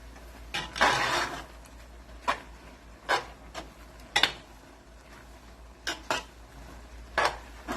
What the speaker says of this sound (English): Trying to mix up all the beef sauce I've just added